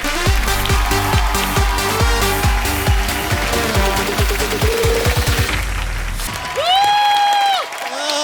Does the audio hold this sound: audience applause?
yes